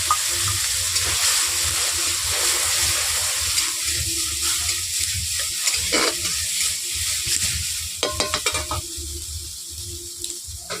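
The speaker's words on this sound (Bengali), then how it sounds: "আগে থেকে লেটা মাছ ভেজে ফোড়নের মতো দিয়ে দিচ্ছি।" Panch phoron spices and pre-fried lata fish sizzle in hot oil, a close, steady crackling fry with stirring and scraping noises, plus a burst of sharper clatter near the end.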